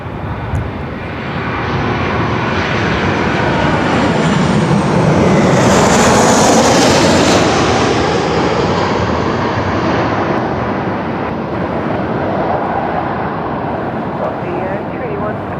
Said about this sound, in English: Velocity 1594 coming in from Newcastle.